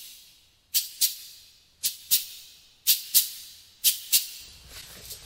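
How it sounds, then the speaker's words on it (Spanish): Acoustic cabasa percussion shaken and twisted in four paired strokes, each a crisp, bright metallic-bead scrape in a steady swung rhythm, heard close and alone. "La cabaza. Miren nomás la cabaza."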